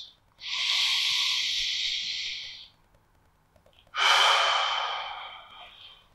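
Two forceful, airy breaths, each a long hissing exhale lasting a couple of seconds, separated by a short quiet pause, close and loud.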